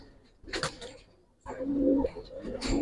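Giribaz and coloured pigeons coo at a farm, low murmuring calls in two bursts with a pause between, close by and moderately loud, mixed with some background voices and handling noise.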